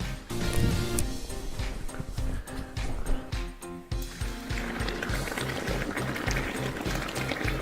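Molten salt poured onto dry ice, rapid vaporization with loud irregular bubbling, popping and gurgling bursts, close and continuous, no talking.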